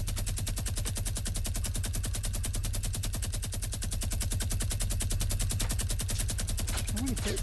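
Fortnite Battle Royale gameplay carries rapid, continuous automatic gunfire, a dense even rattle throughout, with a brief voice heard near the end.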